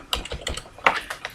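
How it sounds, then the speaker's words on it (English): Keys tapped on a computer keyboard in a quiet office setting, a short burst of about six or seven distinct clicks in quick uneven rhythm, close and moderately loud, with no talking. "I might want to type admin"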